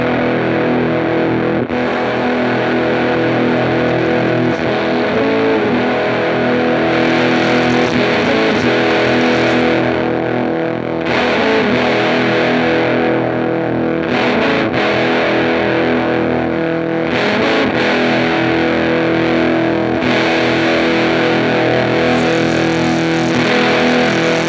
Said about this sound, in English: Let's mess with the drive knob some and see how much that changes how the fuzz sounds.